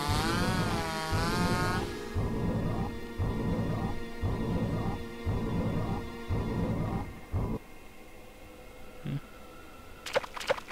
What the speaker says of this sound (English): Ooh, a chainsaw.